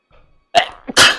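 A single close sneeze: a short breathy intake, then a loud, explosive burst that trails off quickly.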